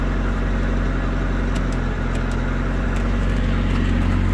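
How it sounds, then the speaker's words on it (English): Close, steady idle of a Peugeot 205 GTI 1.9 engine, an even low tick-over that stays constant throughout with no talking. "it's a nice little tick over, not too noisy."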